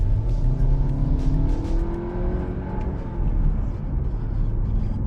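A Skoda Kodiaq's turbo petrol TSI engine revs hard toward 6,000 RPM in sports mode, climbing in pitch, then eases off and settles into a lower, rumbling drone, loud and close.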